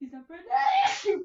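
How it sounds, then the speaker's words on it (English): A single sneeze bursts out close by in a room, mixed in with someone talking over it. "Stop sneezing, it's very irritating."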